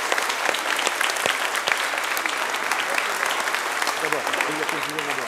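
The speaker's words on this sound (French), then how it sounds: "On va les applaudir très fort, la chorale aussi" Loud, sustained applause from a large church congregation after Mass, honoring the choir and helpers, with dense clapping throughout and some voices mixed in toward the end.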